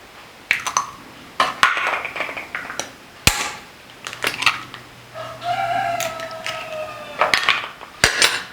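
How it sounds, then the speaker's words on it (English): Eggs are cracked against a bowl into a bread omelette mixture, giving a series of sharp clinks and taps of shell on the rim. Clattering dishes and utensil scrapes surround them, with a rooster crowing faintly in the background. "we are going to crack the eggs in the mixture"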